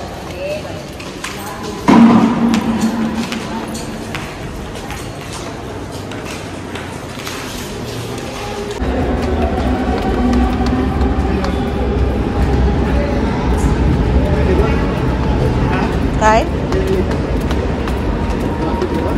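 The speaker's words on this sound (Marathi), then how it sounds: "आता आम्ही आलो आहोत स्टेशनवर, कोपरखैरणे स्टेशन" Koparkhairane railway station in Mumbai, where a train rumbles and clatters close by amid a busy platform's noise, with a loud thump early on and a steady heavy roar through the latter half.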